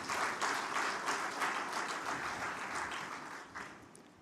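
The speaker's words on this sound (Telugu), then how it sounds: "చప్పట్లు కొట్టి దేవుని స్తుతిద్దాం." A church congregation clapping hands in praise, a dense rhythmic round of applause that fades slightly toward the end, no speech over it.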